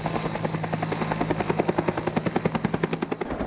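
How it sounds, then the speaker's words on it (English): A logging helicopter flying during heli-logging, its rotor giving a loud, steady rhythmic chop that stays close throughout, with no talk. "Great heli logging out here."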